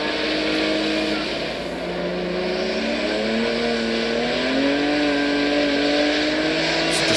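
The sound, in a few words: Subaru time-attack car driven hard, back end sliding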